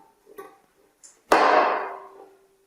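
A nut rivet tool sets a threaded rivet in a car door panel during a restoration: a few faint clicks and taps, then one sharp metallic crunch of the crimp that rings and fades over about a second.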